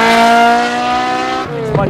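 A tuned car with an H-pattern manual gearbox revs hard in one gear with a loud, steady high engine whine, then briefly drops as the next gear is taken, heard close and dominant.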